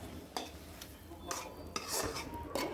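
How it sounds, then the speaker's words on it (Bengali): Meat for a Chittagong-style kala bhuna, made with Eid sacrifice beef, being stirred and mixed in a cooking pot, with several scraping, clattering strokes of a spoon against metal over a faint sizzle. "এখন সব গোস্ত আমি মিক্স করে নেব।"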